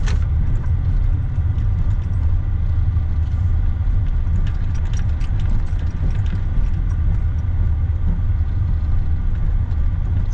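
Car driving along a busy city road in Hamtramck, Michigan, with a steady, loud low engine and road rumble filling the whole stretch and no talking.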